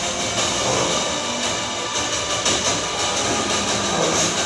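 A train roars through a War 2 action trailer scene in which a car is driven onto the roof of a moving train; the rumbling, rattling din is loud, dense and unbroken throughout.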